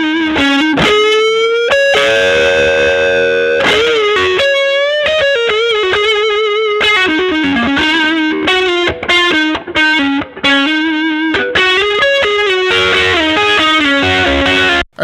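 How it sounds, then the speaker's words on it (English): A loud, distorted electric guitar, run through a distortion plugin, plays a sustained, gritty solo line over a full band, continuous throughout with bent and held notes. "You just get to hear what the distortion's doing."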